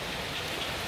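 Steady rain falls outdoors during fish grilling, a dense, even hiss of drops on surfaces filling the whole moment at moderate, constant loudness with no voices.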